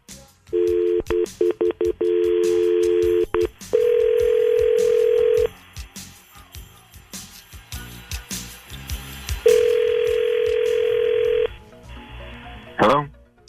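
A phone line's steady dial tone, then a quick run of keypad tones dialing a number, followed by ringback tones while waiting for the call to connect, with a brief voice near the end.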